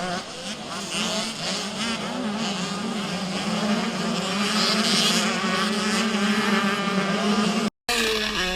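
Motocross motorcycles at a championship round race at Pontrilas, a pack of loud, buzzing two-stroke engines streaming past with overlapping revs and pitch shifts, dense and continuous before a brief cut near the end.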